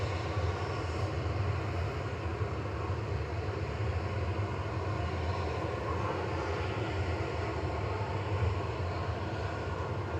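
A TUI Boeing 737-800 at Manchester Airport, its engines giving a steady broad roar of jet noise with low rumble, continuous and fairly distant for the whole stretch, with no talk.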